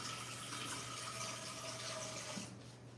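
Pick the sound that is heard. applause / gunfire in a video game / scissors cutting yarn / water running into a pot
water running into a pot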